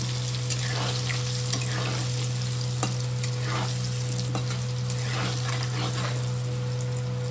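Small whole red potatoes fry in oil and spices over a low, steady sizzle, with occasional clicks and scrapes of a stirring utensil and a constant hum in the background.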